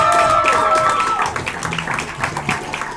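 A small comedy-club audience applauds for comedian Anna Dooney, the scattered clapping sitting behind a host's voice and thinning out over a few seconds.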